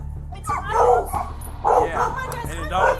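A puppy yelps, barks and whimpers in repeated close bursts, loud and distressed, with a voice talking at the same time.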